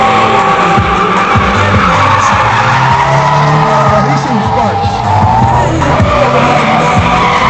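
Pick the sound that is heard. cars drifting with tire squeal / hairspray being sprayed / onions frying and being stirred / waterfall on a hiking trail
cars drifting with tire squeal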